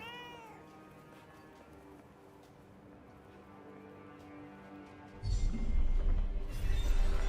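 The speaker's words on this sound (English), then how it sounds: "A cat." A cat in the video game Forspoken lets out a short, close meow at the start, followed by quiet game ambience and then a sudden loud rushing noise near the end.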